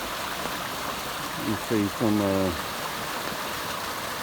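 A flooded creek rushes with a steady, broad wash of flowing water throughout, while someone speaks briefly midway over it.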